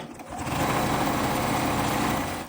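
Sewing machine stitching lines across an oversized quilted hot pad, a steady close whirring hum that holds continuously for the whole stretch without pauses.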